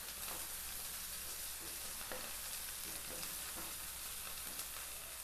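Chopped onion and slit green chilies sizzle in a hot pan, a dense steady hiss of frying oil with a few faint scrapes of a stirring spoon, uniform from start to finish with no talk.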